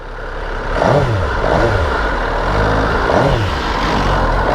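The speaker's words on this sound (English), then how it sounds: "Riding the MV Agusta F3800rr." A 2022 MV Agusta F3 800RR middleweight sportbike engine under way while riding, a loud sustained drone rising and falling in pitch through several rev sweeps, with wind noise and no talking.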